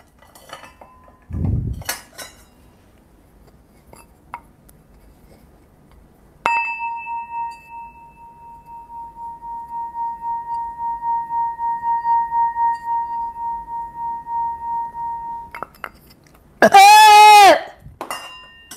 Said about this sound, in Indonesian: kita akan bermain singing bowl.